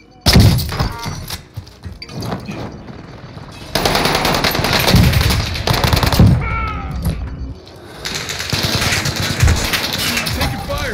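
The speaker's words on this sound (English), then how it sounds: "I'm taking fire here." Bursts of loud automatic gunfire and impacts in Call of Duty Warzone on Rebirth Island, near and chaotic across the whole stretch, with players talking over the shooting.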